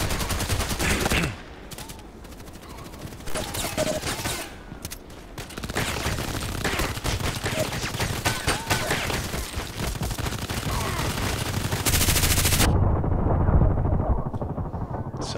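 Sustained automatic rifle fire from the online shooter Contract Wars, rapid loud bursts dense through most of the stretch with brief lulls, plus a sharper close burst near the end.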